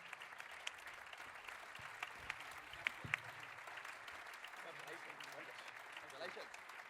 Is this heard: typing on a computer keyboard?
no